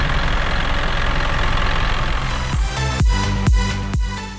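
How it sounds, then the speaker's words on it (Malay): Isuzu NPR Pro truck with a 4HL1 diesel engine, idling loudly with a steady clattering rumble close by, then a series of four sharp rhythmic knocking revs toward the end. "Ini ialah bunyi enjin"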